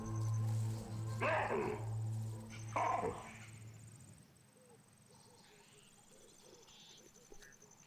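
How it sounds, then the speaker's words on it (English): A troop of monkeys gives sharp alarm barks in the forest, two loud bursts early on, then the calls fade into distant forest ambience with insects and birds. "Their incessant barks stir Buddha from his rest"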